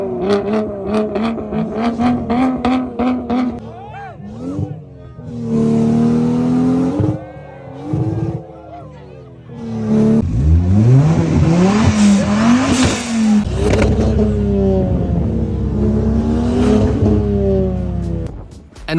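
Loud modified cars rev and accelerate through sport exhausts at a South African motoring festival, repeated rising and falling engine notes with sharp pipe crackle, close and continuous over crowd noise.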